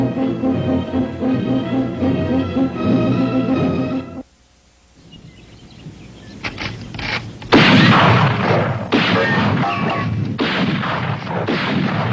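Rifle shots ring out in a western drama: loud, sustained bursts of gunfire arrive after a stretch of music and a brief lull.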